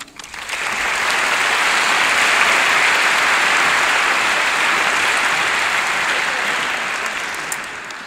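An audience applauds steadily for about eight seconds to welcome speaker Michèle Lamont at a plenary session, the clapping swelling quickly and holding dense and even before easing slightly at the end.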